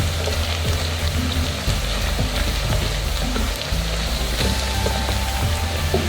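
Cumin seeds hit hot oil with browning onions in a pan for chickpea curry, giving a steady, loud, close sizzle and crackle with no talking.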